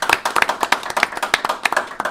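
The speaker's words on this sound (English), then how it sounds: "I'd like to give all of my players a round of applause." A small group clapping for players after a tabletop role-playing game session, brisk uneven claps close by for a couple of seconds with no talk.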